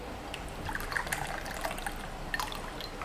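Water trickles steadily into a 22-ounce cup for an iced espresso drink, close and clear with small splashy drips, and no one speaks.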